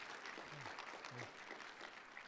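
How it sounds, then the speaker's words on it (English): Applause for Dr. Humphrey at the Panther Leadership Summit, a steady wash of hand clapping from an audience, faint and even throughout, with a voice or two briefly rising above it. "So let's give an applause to Dr. Humphrey"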